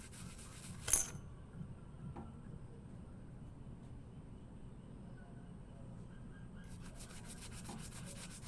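An old coin is rubbed to clean it, a faint continuous scrubbing hiss with a small clink near the start, close and quiet.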